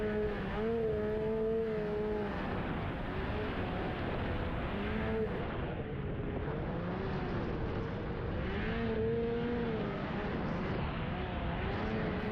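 A vehicle plowing through snow drifts in a roadside ditch after a Minnesota snowstorm, engine droning and revving steadily under wind and snow noise throughout.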